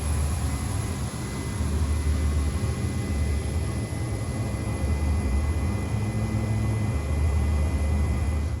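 Inside the cabin of a TezJet MD-80 airliner in Kyrgyzstan, a steady loud broadband roar of the jet engines and airflow fills the space, unchanging throughout with a low hum beneath.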